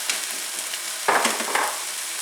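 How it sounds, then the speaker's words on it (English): Olive oil sizzles steadily in a pan, a fizzing hiss that runs throughout and swells briefly twice as something shifts in the hot oil, with no voices. "Then I'm going to add a little more olive oil"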